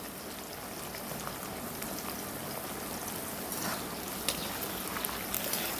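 Potatoes frying in hot oil with a pinch of turmeric and salt, giving a steady, dense crackling sizzle with scattered sharper pops, close and continuous throughout.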